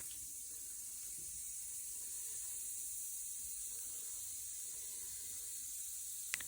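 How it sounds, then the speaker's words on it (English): Bath bomb fizzing in bath water, a steady, quiet hiss that continues evenly and close by with no talking. "the bath bomb fizzed away in the other direction"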